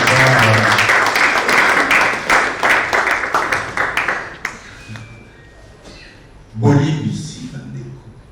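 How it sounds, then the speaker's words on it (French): Loud, dense audience clapping at a book launch that thins and fades after a few seconds, with scattered claps, then a voice speaking briefly near the end. "On peut aussi vous applaudir très fort."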